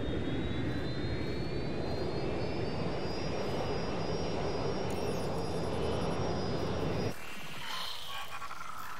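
A plane's engine roars steadily in Watch Dogs: Legion, a loud continuous jet-like drone with a faint rising whine that cuts off abruptly near the end to quieter background.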